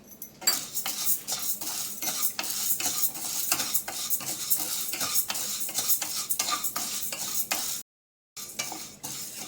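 Six tablespoons of toor dal dry roasting in a pan with curry leaves give a rapid, rhythmic scraping and rattling of a spoon against metal as the lentils are stirred, with a brief pause near the end.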